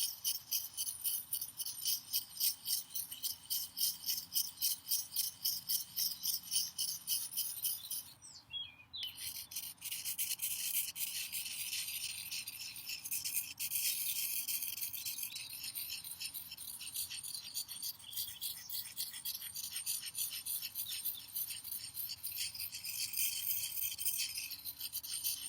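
Knife blade rubbed by hand across a round sharpening stone, outdoors at a forest school, giving steady rhythmic rasping strokes close by, with a brief pause partway through and faint birdsong in the background.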